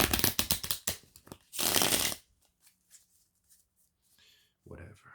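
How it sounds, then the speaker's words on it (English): A tarot deck is shuffled up close, with rapid riffling card flicks followed by a longer dense shuffle, then quiet with faint handling and a brief final rustle. "I think maybe I should change my tarot deck. Doesn't shuffle very as well as I'd like"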